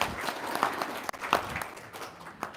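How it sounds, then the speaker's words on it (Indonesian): An audience at a motivational talk breaks into brief applause: a steady crowd of hands clapping for a couple of seconds, with a few sharper individual claps standing out. "Sip, tepuk tangan."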